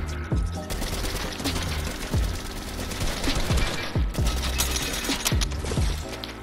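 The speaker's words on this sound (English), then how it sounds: "So the MK assault rifle, I'm gonna test its nerf." An MK assault rifle firing in Fortnite, a string of sharp, punchy shots in quick bursts with mechanical clicks between them, loud and close with no voice over it.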